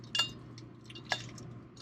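Wheel bearing dropped into a greased RV brake hub, two sharp metallic clinks about a second apart, close and clear against a quiet, humming background.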